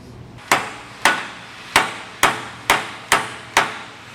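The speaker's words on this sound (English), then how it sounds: "just hit that head of that bolt with our hammer until the bolt head meets up fully with our hanger" Seven sharp metallic hammer strikes ring out at a steady, slightly uneven pace, driving a bolt head flush against a trailer leaf-spring hanger on a 4-leaf slipper spring setup; each blow is loud, close and clear with no talking.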